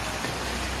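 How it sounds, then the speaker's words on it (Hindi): Heavy rain pours down in a steady, dense hiss of broadband noise with no breaks, loud and close, with no voices over it. "बहुत तेज बारिश आ गया।"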